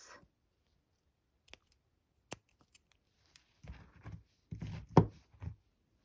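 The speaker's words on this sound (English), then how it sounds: "I'm going to get my little scissors here, and I'm going to cut this" Small scissors snip through crochet yarn in a quiet room: a few isolated sharp clicks early on, then a closer cluster of soft snipping and handling noises, faint and alone.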